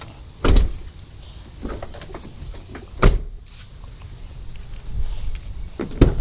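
A car door lock actuator snaps with several sharp mechanical clunks, one near the start, one midway and one at the end, against a quiet background hum.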